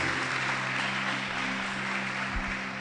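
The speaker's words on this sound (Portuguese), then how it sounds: "Palmas bem fortes." Church congregation applauds for the Lord Jesus during a Portuguese service, a continuous roomful of clapping under a low steady hum, even and moderately loud throughout.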